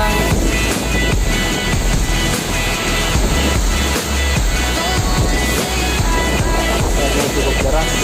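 Rushing water of the Kali waterfall in Pineleng, a loud, steady broadband roar running unbroken throughout.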